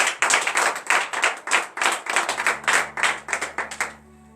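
Congregation clapping in rhythm during a Friday morning prayer service in Benin, a steady run of loud, even handclaps that stops near the end, leaving a faint sustained hum.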